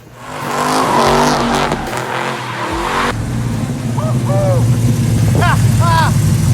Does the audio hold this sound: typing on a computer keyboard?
no